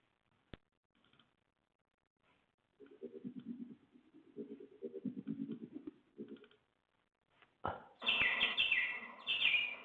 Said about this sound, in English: Birds! Yay! We like birds.